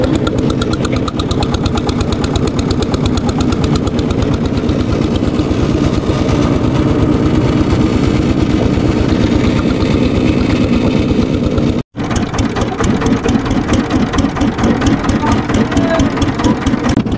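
A boat engine on the Teesta river runs in a loud, steady chugging idle throughout while the boat carries a motorbike, cutting out for an instant near the end before resuming.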